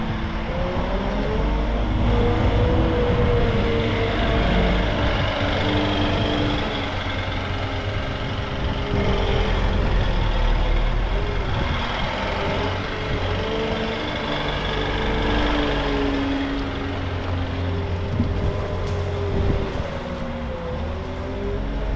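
A lorry is loaded with wood chips from a chip pile by working forestry machinery: a steady, moderately loud engine drone with rumbling and scraping texture throughout, no voices.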